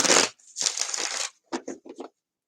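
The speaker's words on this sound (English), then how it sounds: "haven't been able to stop shuffling these cards" Tarot cards being shuffled up close: a long riffling burst, a pause, then a longer riffle followed by several short quick flicks and taps, with no talking.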